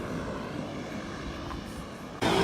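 A passenger airplane flies over a tropical village airstrip on Ambrym, Vanuatu, a steady broad engine roar holding for a couple of seconds before a louder, closer rush of noise swells at the end.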